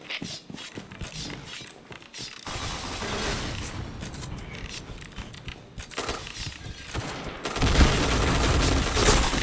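Gunfire in the shooting video game Point Blank, with rapid bursts of automatic shots and sharp bangs, loud and dense, alternating with brief quieter gaps and ending in sustained noisy firing.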